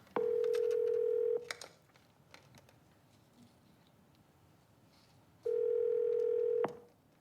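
Landline telephone dial tone in a motel room, a steady loud hum for about a second, then a pause with faint handling sounds before a second long burst of tone.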